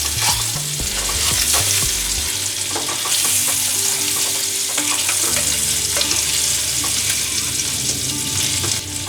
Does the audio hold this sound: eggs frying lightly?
yes